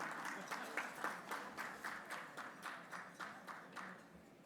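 Guests at a banquet clap in a fairly regular, rhythmic pattern, individual claps standing out in a quiet, somewhat distant patter that fades slightly toward the end.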